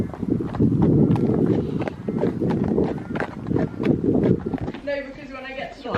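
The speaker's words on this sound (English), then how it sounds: "Look at the horses coming in." Horses' hooves clop in a steady run of knocks over a loud, rough rumble, with a voice speaking over the last stretch.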